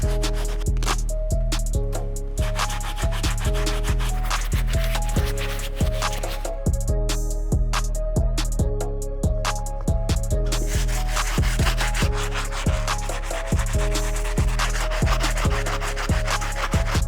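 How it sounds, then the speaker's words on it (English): Soft and stiff bristle brushes scrub the uppers and soles of Nike Yeezy 2 sneakers, making a continuous close, rough swishing with rapid repeated strokes. "We're just gonna take care of the uppers using the soft bristle brush and the insides, and for the soles, the stiff bristle brush"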